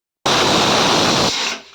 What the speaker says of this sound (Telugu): ఒక విజిల్ వచ్చిందండి